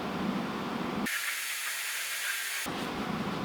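A loud, steady hiss of steam bursts from heated, thinned rustproofing for a second or two over a rumbling background, then cuts off.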